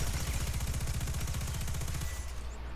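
Rapid burst of submachine gun fire in a first-person shooter during a recoil test, a steady fast rattle of shots lasting about two seconds before cutting off, loud and close with no talk over it.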